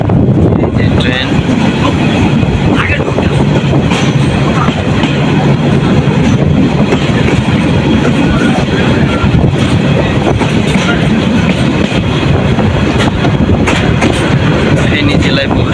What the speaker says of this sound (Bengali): ট্রেন